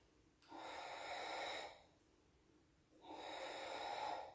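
Two long, steady breaths during a Pilates exercise, each one a breathy exhale-inhale cycle about a second long. They are close and fairly quiet, with a short pause between them and no talking.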